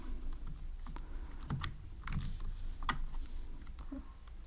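Computer keyboard typing while coding an Android app, a handful of faint, scattered key taps over a quiet room hum.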